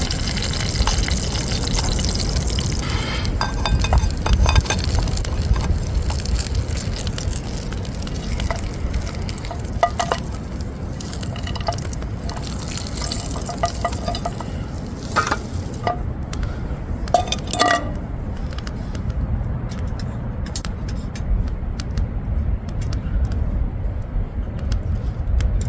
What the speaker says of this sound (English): our water's boiling, so our gravy will be ready any minute now